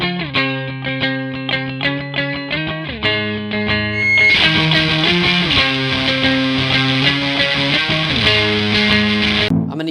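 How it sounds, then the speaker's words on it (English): Electric guitar plays lead octave lines through the clean channel of a Fuzzimp Machina II, picked notes ringing in a melodic phrase, then a fuller, brighter layered passage, with no talk. "I'm going to be overdubbing those same octave parts, but just with a clean channel."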